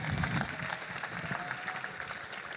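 Applause from a town hall meeting crowd at Kensington Oval, a dense steady patter of clapping from many hands, moderately distant and unbroken.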